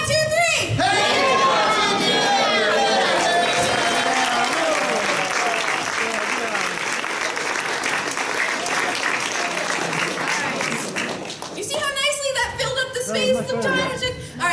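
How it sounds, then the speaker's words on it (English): A convention crowd at a comedy improv show applauds continuously as the performers leave the room, loud sustained clapping with cheering and chatter mixed in, and a voice speaking near the end. "we're going to applaud until they get to the end of the room"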